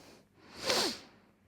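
A single short sneeze, close and fairly soft, swelling quickly to a breathy burst and fading out.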